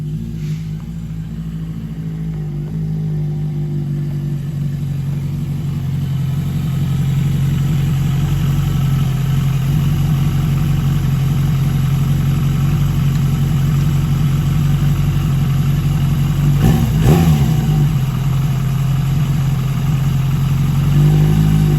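A Yamaha XJ750 Seca motorcycle engine running steadily with a deep, even hum, close and loud, rising slightly in intensity partway through with a brief burst of revving near the end.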